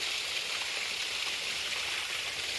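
Water flows steadily while mango trees are being watered, a soft, even hiss of running water with no pauses and no voices.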